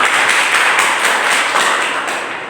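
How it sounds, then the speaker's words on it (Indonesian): A room full of people applauds for everyone at once, a thick, even wash of clapping that is loud and close, then tapers off slightly at the end. "Baik, tepuk tangan untuk semua."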